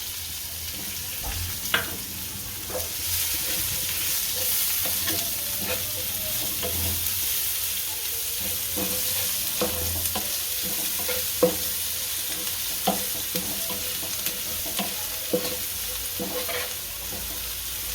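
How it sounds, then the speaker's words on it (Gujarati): Onions hit hot garlic in a pan for dahi tadka, frying with a continuous loud sizzle while a spoon stirs and scrapes in irregular clicks throughout, close and steady. "આ કાંદા નાખશું."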